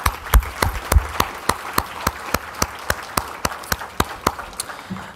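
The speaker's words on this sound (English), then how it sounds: "let's give our speakers, our panelists, our moderators a round of applause one more time" An anniversary symposium audience gives speakers, panelists and moderators a rhythmic round of applause, about seventeen even unison claps at a steady beat, near and clear with no talk over them.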